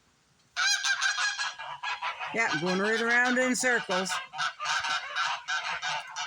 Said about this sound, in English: I got a goose fight over there.